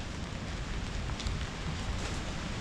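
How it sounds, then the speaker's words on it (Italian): Steady rain falls outdoors around an abandoned factory in Castiglione Olona, a constant broadband patter with no talk over it. "Piove, piove."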